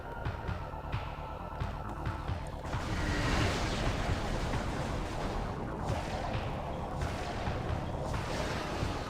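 Missiles fired in the game Metroid Prime 2: Echoes, a dense run of booming blasts and rumbling impacts layered over loud, continuous game sound.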